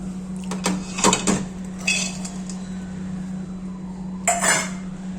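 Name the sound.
frying raisins in ghee in a pan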